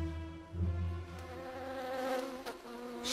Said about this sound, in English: he's never come across bees before, and he doesn't know that they will defend their honey to the death